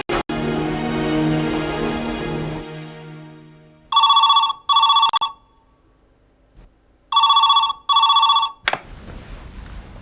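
An old-style telephone bell rings in two double bursts, loud and close, following a fading musical tone and then near silence, in a Pakistani drama scene.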